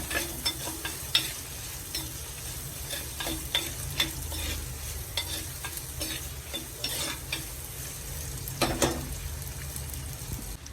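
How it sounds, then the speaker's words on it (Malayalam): A handful of shallots sautéing in a pan for dried anchovy thoran, with a steady close sizzle broken by repeated scraping stirs throughout, no voices. "ഒരു പിടി കൊച്ചുള്ളി എടുത്തു ഇത് നന്നായിട്ടൊന്ന് വാടി വരണം"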